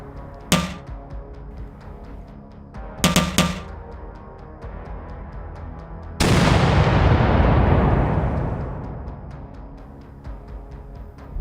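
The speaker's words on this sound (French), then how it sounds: "Une détonation dans le lointain fit dresser ses poils sur ses bras." Ducal palace artillery booms in the distance: a single heavy detonation, then a quick cluster of blasts, then a long rolling roar that swells and slowly fades away.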